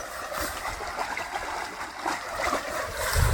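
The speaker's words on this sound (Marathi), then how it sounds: "ही वड्याची म्हणजे असं इकून असं पाणी ओत आहे." Water runs steadily through a farm field, a continuous close trickling and gurgling flow with no talk, swelling slightly louder at the end.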